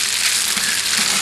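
Dry pasta frying in hot olive oil in a pan, a loud, steady, close hiss and crackle of sizzling with faint stirring, no voices.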